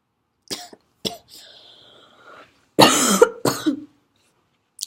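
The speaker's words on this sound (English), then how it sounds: "Excuse me for my coughing, I think I'm getting sick." Several sharp, dry coughs come in separate bursts, close and loud, with a brief throat-clearing rasp between them and silence around.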